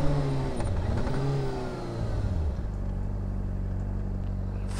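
A 2009 Honda CBR 600RR motorcycle engine revs up and down near the mic for the first couple of seconds, then settles into a steady, loud idle-like drone.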